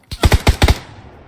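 M249 machine gun fire in the PUBG Lite PC game: a loud, close burst of five rapid shots in quick rhythm, followed by a fading tail.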